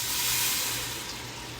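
Water is poured into a pot of beef and barley soup with onions and garlic, a steady close splashing hiss that fades slightly over a couple of seconds, with no talking.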